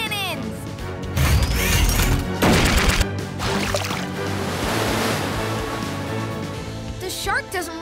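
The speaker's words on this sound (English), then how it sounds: "Water cannons." A loud, sustained watery blast of a cartoon water cannon in PAW Patrol, rushing, splashing spray with crashing bursts, layered with whooshing cartoonish effects.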